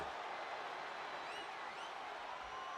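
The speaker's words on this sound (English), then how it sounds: "And do you hear this capacity crowd?" Arena crowd at a WWE 2K25 no-holds-barred wrestling match, a steady, faint wash of cheering and murmur sustained throughout, with a few faint whistles rising over the din.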